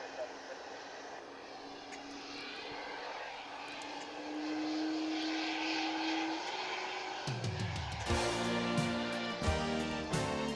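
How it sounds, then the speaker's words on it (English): A UPS cargo jet is pushed back at DFW International Airport, its engines giving a steady distant roar with a rising whine, then a louder throbbing rumble that builds near the end. "This aircraft being pushed back now is on its way to Louisville."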